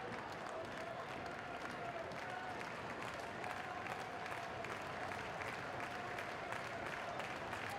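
A college baseball crowd at an LSU ballpark claps and cheers steadily, a dense, sustained wash of applause heard from within the stands with faint voices mixed in.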